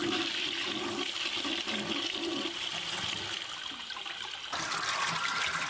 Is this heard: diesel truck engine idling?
no